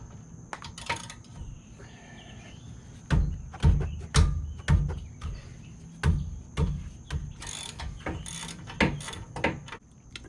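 A ratchet works on 19 mm brake caliper bolts on a 2012 Nissan Altima during rear wheel bearing work, giving repeated clicking strokes and metallic clunks in an irregular rhythm, close and fairly loud.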